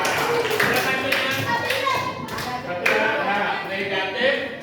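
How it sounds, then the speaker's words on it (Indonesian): Children clapping in a classroom for a classmate, a short burst of uneven hand claps mixed with kids' voices and a teacher talking over it. "tepuk tangan buat Lorat"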